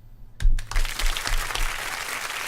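Applause and clapping from a small group in a radio show studio, bursting in sharply and continuing as a steady, fairly loud patter of hands.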